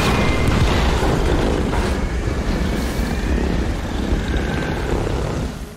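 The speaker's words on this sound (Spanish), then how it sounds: "Claro, disparo una bomba y ahora suelta tornado." A bomb shot exploding in the video game Evil West, a deep booming blast with rumbling decay that fills the clip loudly and fades slightly at the end, with no talk over it.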